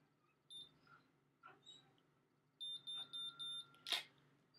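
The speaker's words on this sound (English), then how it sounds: "when you hear four beeps, you can release" A Babyliss Pro Nano Titanium MiraCurl hair curler gives a few faint electronic chirps, then four evenly spaced high beeps close by, followed by a short sharp burst.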